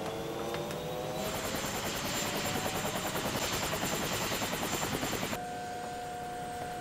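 A helicopter in flight gives a loud, continuous rotor drone with a fast chopping pulse and a steady whine, heard up close throughout with no talk.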